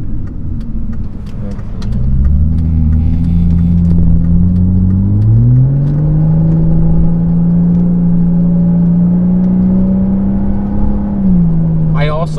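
Volvo S60 T6 R Design engine accelerating hard through its six-speed automatic transmission, a loud close rising drone climbing through the revs with smooth gear changes, steady throughout.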